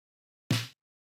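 A single snare sample for a beat, one short bright hit with a quick decaying tail, alone against silence.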